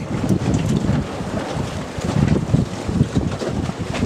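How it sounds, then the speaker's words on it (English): Strong wind buffeting the microphone outdoors beside an RS Vision sailboat being rigged, a continuous loud rumbling roar with gusty surges, no talking. "It's windy today."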